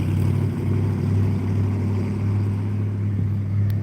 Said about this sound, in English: There's that car again.